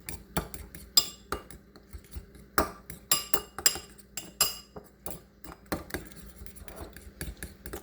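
Utensil clinking and scraping against a bowl while cheese and egg are mixed for a cheesy lettuce egg breakfast, a steady run of sharp, close metallic taps and rubs with no talking.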